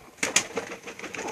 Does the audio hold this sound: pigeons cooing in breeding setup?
yes